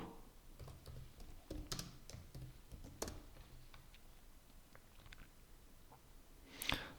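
Faint computer keyboard typing into a web browser search bar, scattered light key clicks in short runs with pauses, close but quiet, ending in a sharper clatter.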